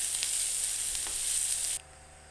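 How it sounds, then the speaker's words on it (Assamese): Two green chillies frying with ginger-garlic paste in a pan, a bright steady hiss of sizzling oil with a couple of faint stir taps that cuts off abruptly near the end. "এইখিনি মই ৰঙচুৱা হোৱালৈকে ভাজি ল'ম।"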